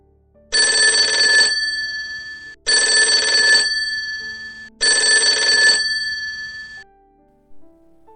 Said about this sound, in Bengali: ঝনঝন ফোন বাজছে ড্রয়িং রুমে